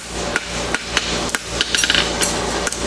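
A farrier's hammer strikes a steel bar horseshoe in steady, ringing blows roughly every half second, loud and close, with a quicker flurry of lighter taps partway through and no talking.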